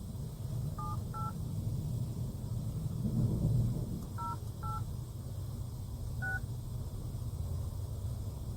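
Five short pairs of touch-tone dialing beeps come in an uneven sequence over a low rumbling background hum, clear but not loud, with no talking.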